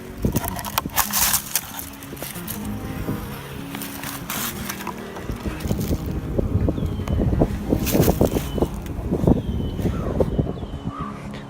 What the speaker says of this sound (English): There's a nice bit of wind.